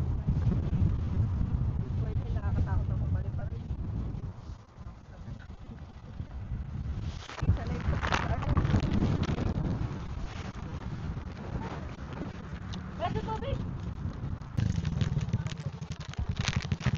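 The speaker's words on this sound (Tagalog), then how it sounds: "Grabe, mahangin, no?" Strong wind buffets the microphone on a grassy hilltop, with loud low rumbling gusts that rise and fall. A person talks briefly under the roar.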